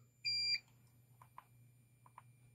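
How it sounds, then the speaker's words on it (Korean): One short, loud electronic beep from a digital temperature controller set to 10 degrees, a piercing tone lasting about a third of a second over a low hum, then a few faint clicks. "10도에 설정을 했기 때문에 10도보다 높으니까 부저가 울리는 거예요"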